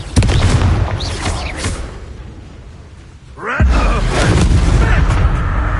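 Confringo fire spells blasting during combat in Hogwarts Legacy, a loud booming burst near the start, then a lull followed by a second heavy explosive impact that rings on to the end.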